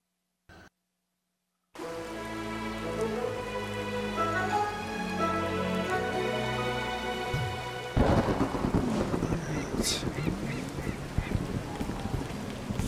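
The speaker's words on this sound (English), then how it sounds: "I wanna go experience Mafia Town in the rain" A rainstorm with thunder hits Mafia Town in the video game A Hat in Time. After a moment of silence, steady rain and game music come in, then a loud rumbling thunderclap joins them, with no talking.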